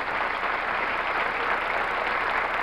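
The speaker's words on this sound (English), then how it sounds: "The applause now. Much deserved." Steady applause from an indoor crowd at a 1970 professional bowling tournament final, a dense wash of clapping that holds evenly throughout with no voices standing out.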